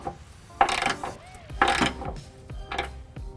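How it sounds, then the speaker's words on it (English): Ratchet with a 3/4 inch socket clicks in three short bursts while snugging trailer hitch hardware on a 2013 Chevrolet Impala, close and moderately loud with brief pauses between strokes. "I've got a 3/4 inch socket. I'm just going to take all of the hardware that I installed by hand and snug it up"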